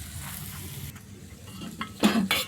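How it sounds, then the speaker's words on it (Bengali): Spice paste for a potato curry (aloo dum) being stir-fried in a pan, giving a soft steady sizzle with spatula scraping and a couple of louder clanks of utensil against metal near the end. "আলুর দমের মশলাটাকে কষাচ্ছি"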